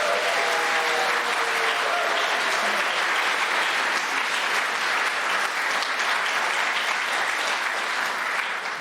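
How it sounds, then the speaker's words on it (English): A quiz show studio audience gives a long, sustained round of applause, loud and even from start to finish, with a brief voice at the very beginning. "I guarantee no one could possibly sleep through this disturbingly loud round of applause"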